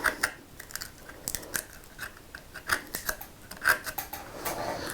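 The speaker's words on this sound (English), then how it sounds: "So if we just edge that into the corner and then use the 6mm chisel" A 6mm chisel pares waste from the socket of a half-blind dovetail in wood, giving a run of short, close, crisp scraping and crunching cuts in an uneven rhythm, with no talking.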